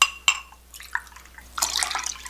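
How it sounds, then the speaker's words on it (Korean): Water is poured from paper cups into a soy sauce and vinegar pickling brine. A few close drips and splashes are followed by a steadier burst of pouring and sloshing liquid. "자, 물은 종이컵 2개 넣겠습니다."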